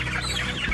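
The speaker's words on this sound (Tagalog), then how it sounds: "Tingnan po natin paano mo maghuli ng manok si Eric." Chickens cluck loudly and continuously at close range, agitated birds crowding together while they are being caught by hand on a farm.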